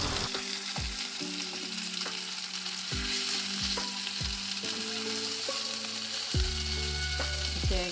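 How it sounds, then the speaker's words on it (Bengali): Boiled cauliflower frying in hot oil, a steady close sizzle with repeated clinks and scrapes of a spatula stirring in the pan, no voices. "সিদ্ধ করা ফুলকপিগুলো এখন ওই তেলের ভিতরে ভেজে নেব"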